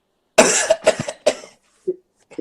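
A person imitates a dry, hacking cough: a few harsh bursts in quick succession, then some softer throaty sounds.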